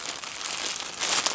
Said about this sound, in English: we have a nice plastic bag here